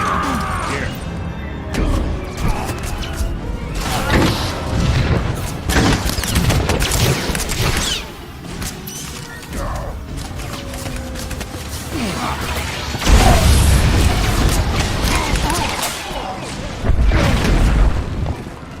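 Sustained battle gunfire from Star Wars: The Old Republic, with repeated blaster-style shots and booming impacts spread across the whole stretch, loud and dense, swelling stronger toward the end, with faint voices underneath at times.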